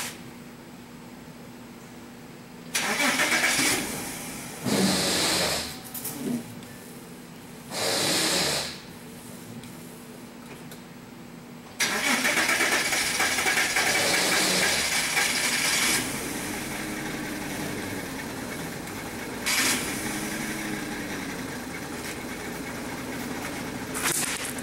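A 2004 Volkswagen Touareg engine with misfires on cylinders 15 and 16 cranks and starts, then idles roughly with uneven surges, steady and close throughout, no talking.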